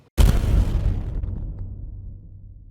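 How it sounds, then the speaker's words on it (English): Explosion-like boom built from reverb using the Berserker plugin, a sudden loud wideband burst that swells and decays into a long rumbling tail. "picking up all of this reverb and creating a sort of like explosion sound"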